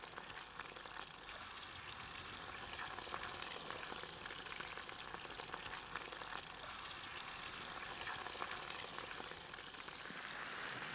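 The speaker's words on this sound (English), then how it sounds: "I always use a very heavy duty frying pan in the bush, otherwise everything will burn too easily." Steady, dense sizzling and crackling of fish and chips frying in olive oil in a heavy-duty pan in the bush, close and continuous with no talking.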